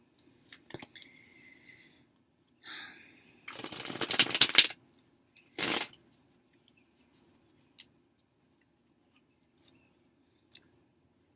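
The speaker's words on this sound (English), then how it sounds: "I'm going to shuffle again." Tarot cards being shuffled by hand, heard as a few short papery riffles and one longer burst of rapid flicking, with quiet gaps and small taps between.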